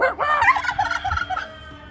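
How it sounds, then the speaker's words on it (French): A turkey at a conservatory for Gallic roosters lets out a loud, close gobble, a rapid bubbling burst of warbling calls lasting about a second and a half before fading, with no talk over it. "Ah non, c'est le dindon qu'on entend."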